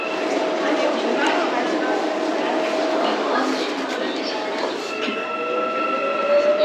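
A metro train pulls into a station in South Korea, a steady rumble with tonal whine running throughout, heard under nearby voices and station bustle.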